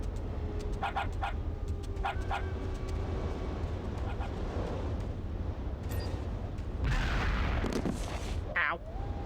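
A dog barks in Metal Gear Solid: The Twin Snakes, a few sharp barks early on among game sound effects, muffled blasts and a steady low rumble.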